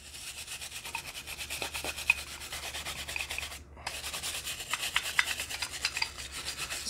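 An old wrench coated in rust is scrubbed hard with rapid rhythmic back-and-forth rasping strokes, close and fairly loud, with one brief pause partway through before the scrubbing resumes.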